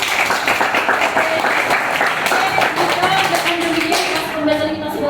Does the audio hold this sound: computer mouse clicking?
no